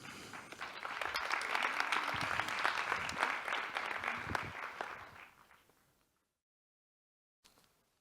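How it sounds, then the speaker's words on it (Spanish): Audience applause at a talk on self-sovereign identity and privacy as the speakers arrive, steady clapping for about five seconds before fading out, then silence and a short burst of sound. "Un aplauso."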